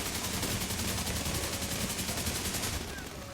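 Sustained rapid-fire bursts from an assault rifle in The Division 2 crackle loudly and continuously for about three seconds before easing off slightly at the end.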